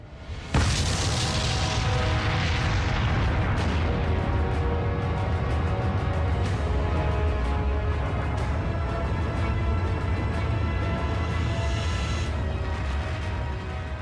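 An atomic bomb test explosion from the Manhattan Project erupts in a sudden heavy boom, then a long, loud rumbling roar that holds steady and slowly fades, with no talk.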